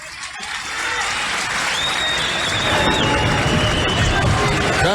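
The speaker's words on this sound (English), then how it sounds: "Crowd coming to their feet for the senior Anthony Conaca" Wrestling crowd at a college dual meet between Oklahoma State and Oklahoma, loud continuous applause and cheering from an arena audience, swelling as people rise, with faint whistles above the roar.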